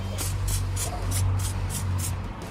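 Cleaner spray bottle pumped rapidly onto dirty plastic trim inside an old Toyota Hilux, about nine short, sharp hissing bursts in an even rhythm, close and clear over a low background hum.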